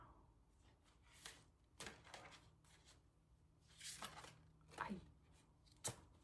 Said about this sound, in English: One day I'll get better at shuffling.